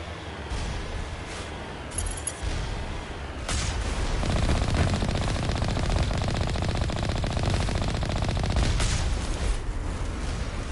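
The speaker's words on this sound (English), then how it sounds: "See, some gunshots and a missile." Rapid machine-gun fire and missile blasts from the Mako vehicle in Mass Effect, a dense rattling barrage that swells louder midway, with sharp impacts standing out.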